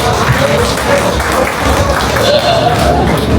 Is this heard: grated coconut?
no